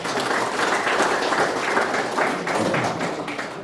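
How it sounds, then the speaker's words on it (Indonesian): A crowd of congress delegates bursts into applause for their base leaders, the dense clapping sustained and fairly close for the whole stretch, with no talk over it. "Kita aplaus kepada pimpinan basis."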